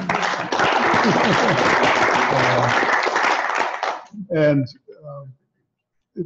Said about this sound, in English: maybe we just give them a quick round of applause.